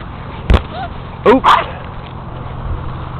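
A Boston terrier gives a short sharp bark followed by a quick pair of yappy barks, close and loud, over a faint indoor background.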